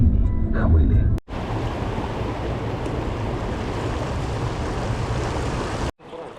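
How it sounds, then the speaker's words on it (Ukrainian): Restless waves on a mountain river rush steadily and loudly close by, a dense continuous wash with wind buffeting the microphone, broken briefly near the start and again near the end. "неспокійні хвилі."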